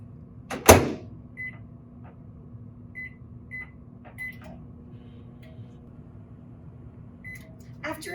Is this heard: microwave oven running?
yes